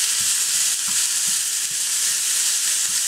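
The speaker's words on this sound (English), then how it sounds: "the first step is we're going to add the ground beef to the pan" Ground beef frying in a pan, a steady broadband sizzle with soft stirring knocks at the bottom, close and continuous with no one speaking.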